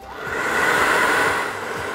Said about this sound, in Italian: Il phon si accende da qui, dal centro.